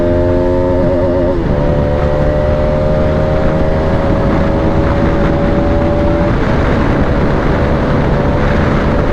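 A Bajaj RS 200 motorcycle, BS3 version, under way with a loud, steady engine drone whose pitch shifts a couple of times as the rider changes gears, filling the whole stretch without any talk.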